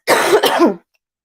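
A single loud, close cough with a rough, throaty burst lasting under a second, followed by silence and a brief trailing vocal sound.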